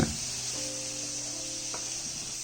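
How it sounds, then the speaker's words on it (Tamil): Beans frying in a pan give a steady, close hiss of sizzling oil with a few soft stirring touches and no talk. "ஒரு 2-3 நிமிஷத்துக்கு ஒரு வாட்டி இந்த மாதிரி நல்லா கிளறி விட்டு கொடுங்க"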